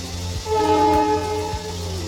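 A Guwahati to Lokmanya Tilak express train stands at a station, sounding a sustained horn with a steady low rumble and faint clicks underneath, close and fairly loud, with no talking.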